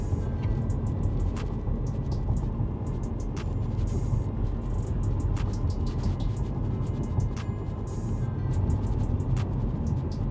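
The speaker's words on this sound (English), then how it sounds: "you can mainly hear the noise from the tires" A 2015 Audi A5 with a Multitronic gearbox travels at 50 to 60 km/h over a rough road surface; a constant, dense tire roar fills the cabin without a break.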